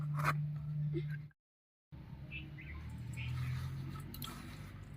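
Cut taro leaves are rubbed by hand with salt, giving soft, moist squishing and crinkling sounds up close, with a brief silent gap partway through and a low background hum.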